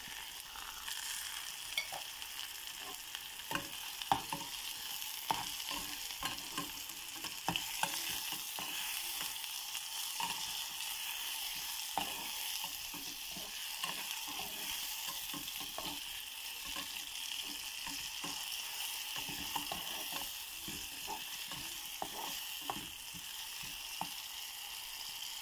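Tomatoes sautéing in a pan with onion and garlic for sardine noodles, a steady loud sizzle running throughout with frequent clicks and scrapes of stirring and no talking.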